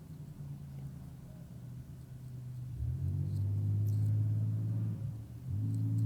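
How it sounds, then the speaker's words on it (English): A Subaru car engine idling low, then revving into a louder, deep rumbling drone that dips once and climbs again, heard from nearby with no talk. "their car sounds like an attack vehicle, but it's just a Subaru"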